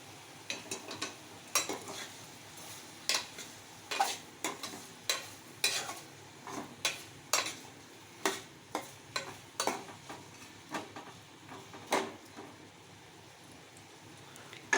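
Eggplant and tomato curry stirred in a pan with squeezed eggplant pieces, a steady series of sharp spoon-against-pan scrapes and knocks at a regular rhythm, over a faint sizzle, no talking.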